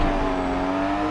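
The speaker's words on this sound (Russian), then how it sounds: "О, как она переключается-то, а? Аж с пробуксовкой с первой на вторую." Race car in Forza Motorsport 7 revving hard through a gear change with wheelspin, a steady loud engine drone with a tonal whine, brief and continuous with no talk.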